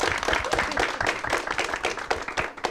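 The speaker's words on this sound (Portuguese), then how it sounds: "Eu quero uma salva de palmas para a Darlene." A studio audience applauds a guest named Darlene on a talk show, dense continuous clapping from many hands that stays loud and close for the whole stretch, with no talk over it.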